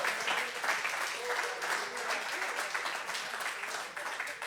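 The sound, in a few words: congregation applause in church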